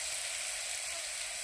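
Kohlrabi frying in hot oil gives a steady, soft sizzling hiss that continues without a break, with no voices over it.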